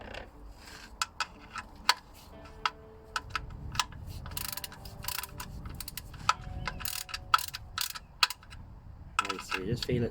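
A ratchet is worked on BMW E60 M47 oil level sensor bolts, giving sparse, irregular clicks and small metallic taps, close but faint, under low background noise.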